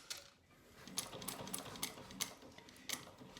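A sewing machine stitching piping with a narrow foot along previous stitching, a faint, quick mechanical ticking and whirring run with light clicks.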